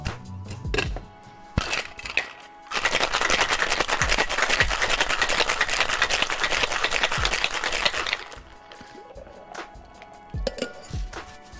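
Cocktail shaker full of ice shaken hard for about six seconds, a dense, loud rattling of ice against the tin, with a few clinks of ice being added before and glassware after. Mixing a hazelnut bourbon sour.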